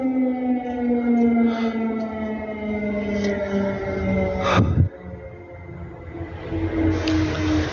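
A loud wartime air raid siren in Ukraine wails continuously, its drawn-out tone rising and falling, with a brief sharp knock partway through.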